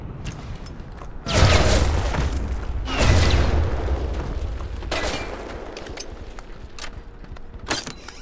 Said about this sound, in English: The bomb just hit the field?